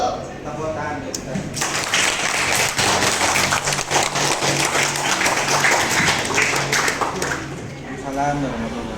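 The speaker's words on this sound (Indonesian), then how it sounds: "Tepuk tangan kita." An audience at an academic coaching and supervision session breaks into applause of many hands clapping, steady and fairly loud for several seconds, with voices heard before and after it.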